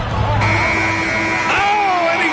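A loud end-of-quarter buzzer sounds in the NBA 2K25 basketball video game as a long steady electronic tone over crowd noise, with a second tone joining near the end while a commentator talks over it.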